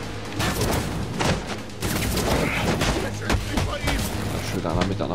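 Video game Batman Arkham Origins: an armed enemy's gunfire rings out in repeated sharp shots and bursts over a busy game soundscape, with speech running underneath.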